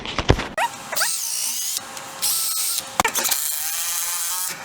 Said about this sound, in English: So now I can go ahead and drill and screw in the rest of these